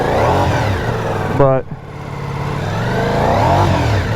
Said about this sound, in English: First thing we're gonna do is start this bad boy up. Let's see how it sounds.